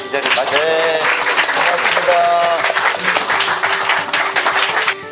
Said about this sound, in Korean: 큰 박수로 이 자리 마치겠습니다.